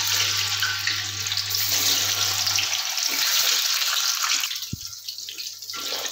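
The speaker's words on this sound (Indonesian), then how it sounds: "Setelah minyaknya panas, kita goreng tahunya dulu ya teman-teman." Tofu pieces fry in hot oil, giving a steady, close, continuous sizzle with no voices.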